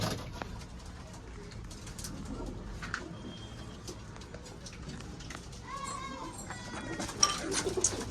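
Teddy pigeons coo softly amid a busy loft, faint murmuring calls repeating under scattered clatter and occasional brief voices, with a louder burst near the end.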